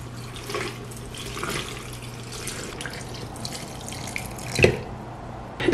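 Lime juice is poured into a glass pickle bottle, with faint trickling and dripping under a low hum, then a louder splash and clink near the end.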